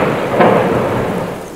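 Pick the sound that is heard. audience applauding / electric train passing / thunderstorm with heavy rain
thunderstorm with heavy rain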